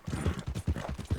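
Horse hooves pounding in a steady galloping rhythm in Red Dead Redemption, a saddled horse running at speed with repeated low, close thuds and no voices.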